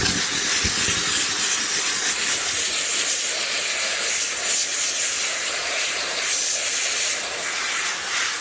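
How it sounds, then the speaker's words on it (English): A steam cleaner hisses continuously and close up while detailing a car interior, a loud, broad, steady spray sound with slight fluctuations as the nozzle moves. "Go behind it with the steamer"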